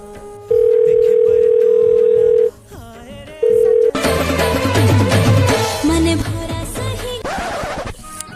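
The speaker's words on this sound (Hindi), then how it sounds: "आज फोन लगा लेता हूँ।" A steady electronic telephone ringing tone holds for two seconds, pauses briefly, sounds again, then gives way to loud, busy music with a bright melody.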